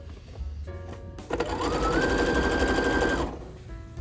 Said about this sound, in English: I'll sew this down after.